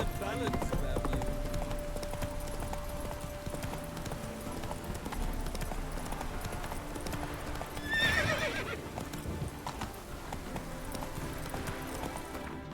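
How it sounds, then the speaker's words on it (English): Horse hooves clip-clop steadily through a busy game soundscape in The Witcher 3, with a sharp whinny near the middle and a dense ambient backdrop throughout. "Whoa there, Roach."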